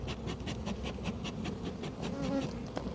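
Honey bees from a swarm buzzing around a standard national hive box, a steady dense drone with individual bees passing close, continuous and moderately loud.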